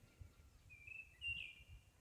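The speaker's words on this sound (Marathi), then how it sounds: "एक पक्षी ओरडतोय" A bird calls outdoors on a village evening, one high, thin, drawn-out note with a brief second call, heard faintly over low rumbling background noise.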